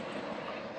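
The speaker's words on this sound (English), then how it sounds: "oh, the airplanes are coming in now" Airplanes in a flight pattern pass overhead, a steady broad engine roar filling the short moment without pause, fairly loud and with no voices.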